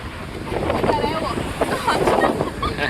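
Gusty wind buffets the microphone in a constant rushing roar, loud and close, with faint voices partly audible beneath it.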